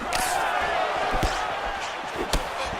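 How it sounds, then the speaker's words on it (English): Arena crowd at a UFC-style middleweight fight between Robert Whittaker and Israel Adesanya, a steady roar that swells with sharp impact thuds as strikes land. "you hear the crowd react every time they come together"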